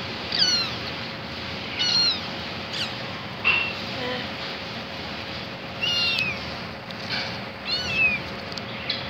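Several high, chirpy meows come from a small new pet cat, repeated every couple of seconds indoors, fairly close over a faint constant hum.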